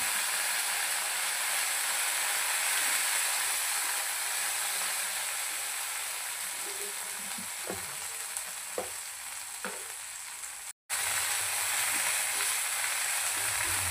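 A poppy seed, coconut and onion paste fries in mutton masala on a tava, a steady close hiss with a few clicks of stirring near the end and a brief cutout.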